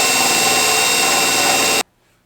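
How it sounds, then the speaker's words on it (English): Loud continuous power drill grinding through car body spot welds, a steady dense whirring that runs without a break for nearly two seconds and then cuts off abruptly into near silence. "Anything you see with a spot weld, you just drill it out."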